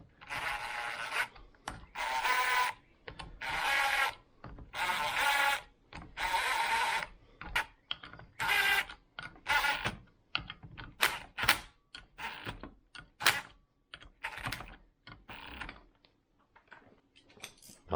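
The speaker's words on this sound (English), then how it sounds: "I'm going to start with my impact driver, but I'm going to hold the socket so that it does not turn too fast" An impact driver, its socket held by hand, runs down the crankcase bolts of a 2000 Honda CR125R in repeated short rattling bursts separated by pauses, growing choppier and shorter toward the end, close and fairly quiet.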